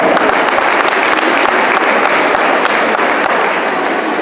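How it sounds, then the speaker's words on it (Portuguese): At a 2018 school Christmas party, a hall audience gives dense, steady applause, loud and continuous from start to finish with no talking over it. "Uma grande salva de palmas."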